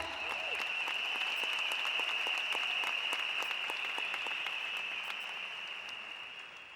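Large crowd applauding in Stadium Putra during an Elken Winners Nite event, a dense sustained roar of clapping with sharper individual claps, fading slightly toward the end.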